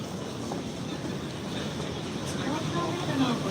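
Subway train at a Ginza Line station in Shibuya, heard as a steady, close, broadband rumble of rolling wheels and station noise that swells slightly toward the end.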